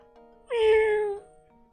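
A cat meows once in the Professor Layton video game, a single clear drawn-out call lasting under a second, close and loud against a quiet background hum.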